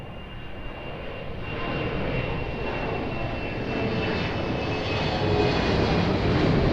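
An airliner roars down runway 02 at Lisbon Airport on its takeoff roll, a steady, loud broadband engine rumble that builds slightly and holds throughout.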